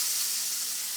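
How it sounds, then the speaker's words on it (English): Battered steak pieces dropped into hot oil for a fried steak sandwich give a dense, even hiss of frying, loud and close, with no voices over it. "let's get them in the oil"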